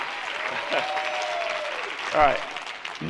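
A conference crowd claps during a stage presentation, steady applause beneath a voice, which rises louder near the end.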